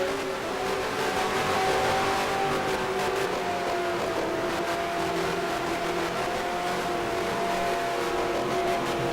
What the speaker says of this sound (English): I think that the safety car is speeding up